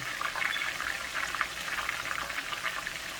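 Frozen okra frying in a pan over high heat, a soft continuous crackling sizzle with no pauses and no talk.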